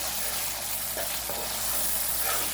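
Ground spice masala, including cumin powder, fries steadily in oil in a pan with soft stirring scrapes under a constant close sizzle.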